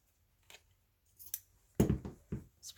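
Scissors cutting paper or fabric material for a boho junk journal, heard as a few separate snips and crisp cuts, with a louder cluster of cutting and tearing sounds near the end against a quiet background.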